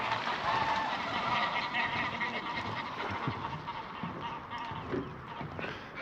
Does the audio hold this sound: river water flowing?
no